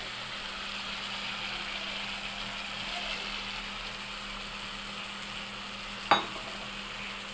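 A spice paste of ginger paste, tomato paste and a little chilli powder fries and gets stirred in a pan, a loud continuous sizzle with scraping strokes and one sharp clink of the utensil near the end.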